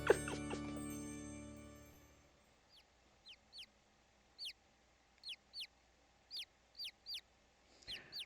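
Chickens in the video game The Great Ace Attorney give a series of short, evenly spaced clucks after a fading musical sting, fairly quiet and with no talk over them.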